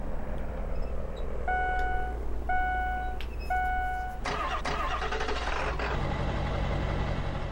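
A Chevy Silverado 3500HD pickup engine in Farming Simulator 2015 cranks with repeated electronic beeps, then catches and settles into a steady idling rumble.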